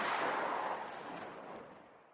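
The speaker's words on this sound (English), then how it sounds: "The rifle fires. The sound of the gunshot echoes throughout the docks" A single rifle shot in a visual novel game, set at the docks, booms out with a broad blast that rolls away in a long, fading echo, loud at first and dying over about two seconds with no voices.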